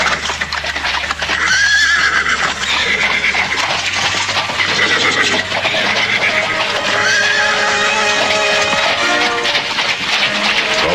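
Horses neigh and whinny loudly over the rumble and clatter of a moving carriage, with hooves clopping throughout.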